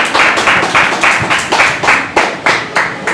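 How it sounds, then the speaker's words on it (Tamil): An audience at a church Christmas program claps loudly and close by, in a steady unison rhythm of about eight evenly spaced claps, with no talk. "அவங்களுக்கு பெரிய கைத்தட்டல் கொடுக்கலாமா?"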